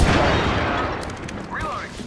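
Gunfire in the video game Apex Legends arrives as a loud burst of shots with booming impacts at the start and then trails off, while game sound effects chirp behind it.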